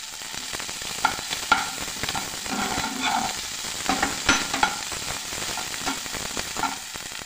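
Ginger goes into a pot of vegetable soup and gets stirred, giving a steady spoon-scraping and bubbling texture with several sharper clinks, mid-level and close, with no talking.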